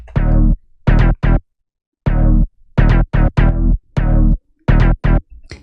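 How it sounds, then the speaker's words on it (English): Staccato electronic synth line playing short, bright harmonic notes in a choppy repeating rhythm with brief gaps between phrases, loud and alone with no voices. "So the synth line sounds like this."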